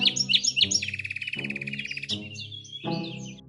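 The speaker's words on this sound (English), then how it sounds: "Look, that's the Bali starling." Bali starling calls in an animated adventure set in a Bali forest, a series of clear, bright whistled chirps and trilling phrases repeated in short bursts, close and alone.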